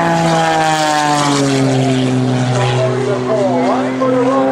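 Aerobatic propeller airplane flown through vertical maneuvers and hard rudder at an Air National Guard open house airshow, its loud continuous engine drone shifting in pitch, with an announcer talking over it throughout.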